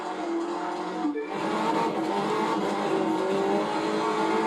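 A race car with an eight-speed gearbox in The Crew 2 video game accelerates hard, its engine revving loudly and climbing in pitch through a brief gear-shift dip, then holding a high, steady roar.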